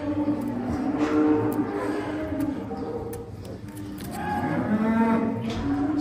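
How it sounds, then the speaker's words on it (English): Cattle being moved nearby, several drawn-out moos rising and falling over a few seconds against faint background noise. "Cattle are being moved all around where we work today."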